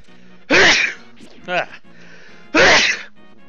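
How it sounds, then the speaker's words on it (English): Two sharp, loud sneezes about two seconds apart, each a bright burst with a short breathy catch between them, heard over faint background music from a Zelda: A Link to the Past randomizer game. "More sneezing."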